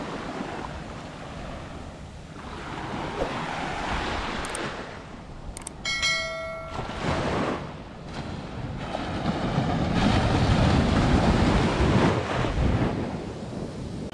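Gentle surf washes onto the shore at Karon Beach in Phuket on a cloudy day with fairly calm water, a soft steady roll of waves mixed with gusts of wind buffeting the microphone, swelling louder toward the end.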